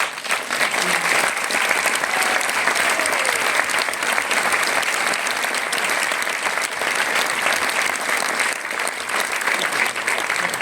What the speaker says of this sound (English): maybe we give a round of applause for the other members of the syndicate